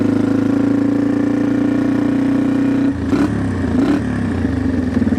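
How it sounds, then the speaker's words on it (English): A Big Wheel 200 motorcycle engine runs steadily at idle close by, loud and smooth, with a brief shift in tone around the three-second mark before it settles back to an even hum. "Motor's nice and quiet, no valve or piston slapping or anything like that."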